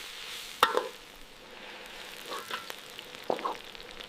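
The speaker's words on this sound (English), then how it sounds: "Consistent, appetizing sizzling sound." Soft sizzling of food in a wok outdoors, with a few sharp clacks and scrapes of a utensil hitting the wok, fairly quiet and close.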